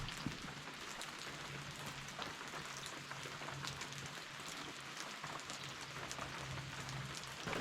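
Steady rain falls at a lakeside campsite on Lower Saranac Lake in the Adirondacks in late spring, a constant soft hiss of drops pattering on surfaces with no voices.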